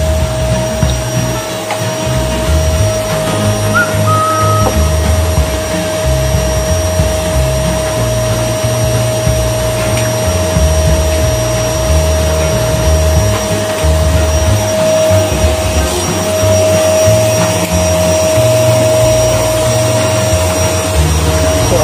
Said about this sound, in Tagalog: Tuloy ang vacuum ng ating asawa.